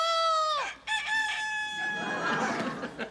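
A rooster gives one long, loud crow up close, its bright call sliding down at the start and holding steady before trailing off into a noisier finish.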